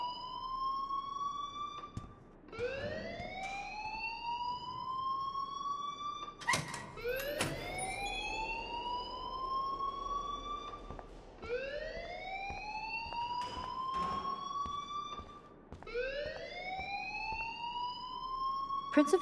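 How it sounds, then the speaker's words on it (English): School alarm in the video game Life Is Strange wails in repeated rising siren sweeps, steady and prominent, with short gaps between cycles and occasional voices underneath. "please turn off that alarm since that's your job"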